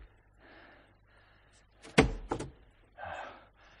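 Someone tries a locked door, giving one heavy thud followed by a brief rattle partway through, with quiet, muffled voices before and after.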